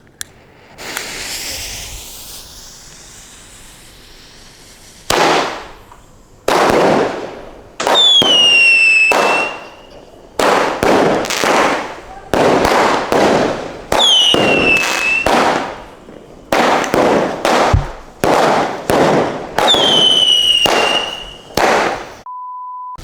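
Thandu King firecrackers burst at a Deepavali celebration: a series of loud, sharp cracks and hissing bursts follow one another in rapid clusters, some with whistling tails, close by and without talk.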